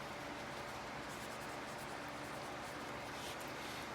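A pen draws lines on graph paper, making a faint, steady scratching over a soft background hiss, with no one talking.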